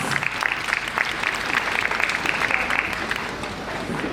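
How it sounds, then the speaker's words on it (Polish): Loud, dense audience applause at a municipal anniversary celebration in Wieliszew, a sustained wash of many hands clapping throughout without a break. "Gorące brawa dla pani sołtys"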